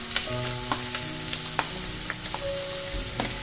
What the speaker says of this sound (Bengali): তেলটা গরম হয়ে গিয়েছে, এবারে আমি এতে দিয়ে দেব 2 টেবিল চামচ পরিমাণ কুচানো পেঁয়াজ